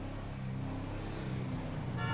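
Car horns honk in a city driving scene in a video game, a short toot rising at the end over a steady rumble of engine and traffic noise, with no talk.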